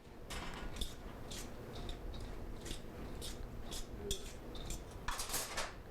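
Eggs being whisked in a bowl in a kitchen, a run of quick metallic clinks and scrapes of utensil against the bowl, close and fairly quiet, with brief pauses between bursts.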